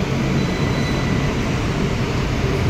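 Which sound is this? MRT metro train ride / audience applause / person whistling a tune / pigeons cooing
MRT metro train ride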